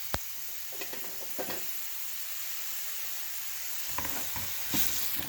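Vegetables tipped into a hot pan deglazed with broth for a shrimp stir fry, a steady hiss and sizzle punctuated by clattering scrapes and taps of a utensil, close up with no voices.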